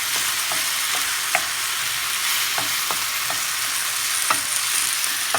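Green and black olives stirred through a hot frying pan while fish cooks, a steady sizzle broken by light scraping strokes and occasional soft clicks of the utensil against the pan.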